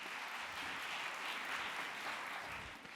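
An audience at an equality event at UNESCO gives a short, steady burst of applause, a dense even clatter of clapping that stays level and begins to fade at the end.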